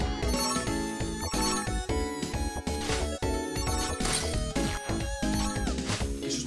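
A mobile phone ringtone plays loudly and continuously, a busy melodic tune with layered tones and rhythmic beats and no voices over it.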